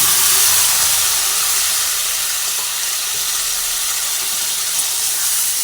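Parboiled potatoes tipped into a hot pan of oil for a besan-fritter curry set off a loud, steady, broadband sizzle and steamy hiss that holds strong throughout, with no talking.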